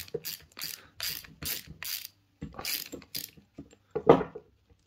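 A brake lever being removed from an e-bike or scooter brake pump with a 10mm socket, heard as a close series of sharp ratcheting clicks in short bursts, ending with one louder clack.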